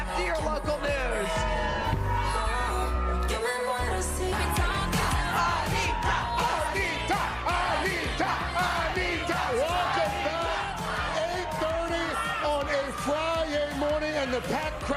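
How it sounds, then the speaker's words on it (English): A packed concert crowd on an outdoor plaza chants and cheers, with many voices rising and falling in a continuous, loud wash that carries unbroken for the whole stretch. "And the packed crowd is chanting."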